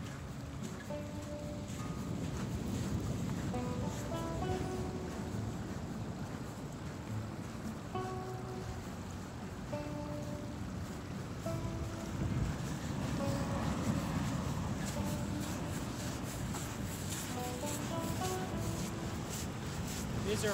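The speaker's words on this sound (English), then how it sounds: "You can already see that the waves are really crazy over here." Rough ocean surf pounding a rocky stretch of the Icelandic coast, a steady loud roar of breaking waves mixed with heavy wind buffeting the microphone throughout.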